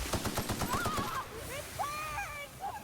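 Rapid automatic gunfire in The Outer Worlds, a burst of tightly spaced shots for about a second, followed by whistling, sweeping game effects and a low rumble.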